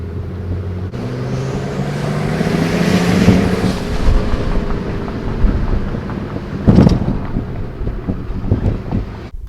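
A Mercedes W124 300CE coupe's M103 engine rumbles steadily while driving, partly buried under gusty wind buffeting the microphone, with a brief louder surge near the end.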